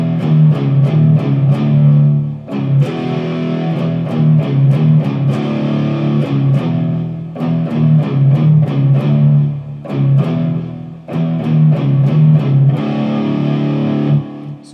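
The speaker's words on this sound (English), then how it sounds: "palm muting, it'll sound something like this." Distorted electric guitar plays a palm-muted riff, chugging in tight, fast rhythmic bursts separated by short pauses, loud and up close with no voices.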